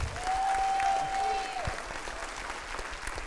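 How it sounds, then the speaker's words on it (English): Applause at a youth camp awards gathering, a crowd clapping steadily for a few seconds with a faint whistle or tone riding over it, the clapping easing off gradually. "Give it up for Reese one more time."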